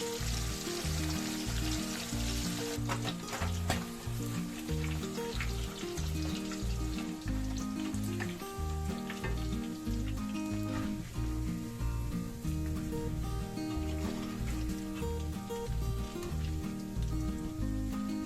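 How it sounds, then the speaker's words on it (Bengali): Paneer cubes frying in a generous amount of hot oil for Bengali matar paneer, a steady close crackling sizzle that runs unbroken throughout with no talk. "প্রথমে বেশি করে তেল গরম করে পনিরগুলো ভেজে নিচ্ছি।"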